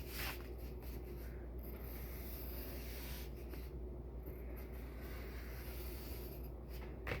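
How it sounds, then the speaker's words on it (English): Steady scratchy rubbing of a pencil moving across paper, close and continuous with brief pauses, no voices. "we'll take our pencil and we'll draw a heart and cut it out."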